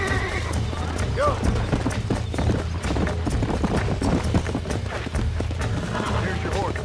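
Horse hooves clip-clop steadily in the Red Dead Redemption video game, with a whinny early on and game dialogue talking over the continuous hoofbeats.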